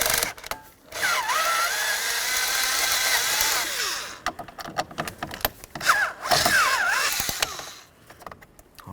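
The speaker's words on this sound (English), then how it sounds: "want to remove these three mounting bolts right here using a T20 Torx bit" Captured mounting bolts being backed out with a T20 Torx bit on a 2007-2012 Dodge Caliber cruise control switch, a close, whirring power-driver buzz with rising and falling pitch in two bursts, separated by clicks and plastic handling noises.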